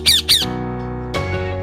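A pet parrot lets out two sharp, loud squawks in quick succession, close by, followed by a fainter raspy call after a short pause.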